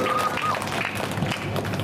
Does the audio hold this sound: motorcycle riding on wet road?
no